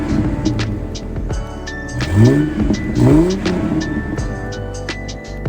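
A 2000 Ford Mustang convertible's V6 engine idles then revs up twice in quick rising blips, loud and close, settling back to a rough idle with no talking.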